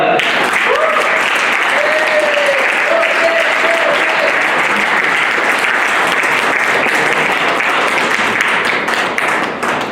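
Loud, sustained applause from an audience at an award ceremony honouring the first and second runners-up, dense clapping filling the whole stretch at an even level while a voice briefly sounds over it near the start.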